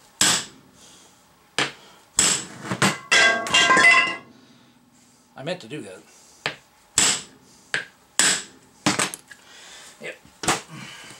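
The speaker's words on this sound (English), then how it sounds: "We'll hit it down and see if we can't just drive the cap out" A hammer strikes a metal cap in sharp, ringing blows while driving it out during kingpin removal on a truck, some single and some in quick bursts, with someone speaking briefly between hits.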